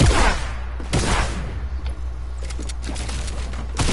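Gunfire in a video game: a few sharp, loud shots crack out near the start and around the one-second mark, followed by quieter scattered pops and steady background game noise.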